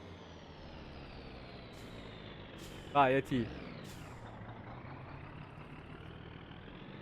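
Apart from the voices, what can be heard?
Gifu vacuum truck braking in video game My Summer Car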